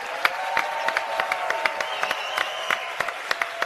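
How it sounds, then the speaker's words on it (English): Audience applause at a political convention for a democratic republic in Iran, a steady patter of many hands clapping with scattered sharper claps standing out, moderately loud and continuous with no talk. "A round of applause for resistant units."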